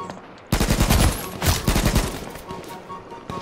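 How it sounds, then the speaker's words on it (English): Rapid automatic gunfire in the H1Z1 survival game, loud close bursts of shots in quick succession with a short pause between volleys, then fading to quieter trailing shots. "we're being shot at right now"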